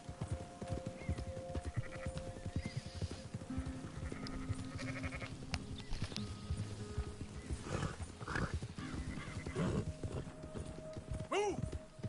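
Sheep bleating in the Red Dead Redemption 2 game world, several short wavering calls rising near the end over steady horse hoofbeats and clip-clop, with someone talking at times.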